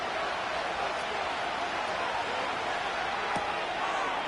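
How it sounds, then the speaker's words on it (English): A steady, dense roar from the Buffalo stadium crowd before third down at a Chiefs vs Bills football game, continuous and even throughout with no single voice standing out. "The Buffalo crowd being heard before third down."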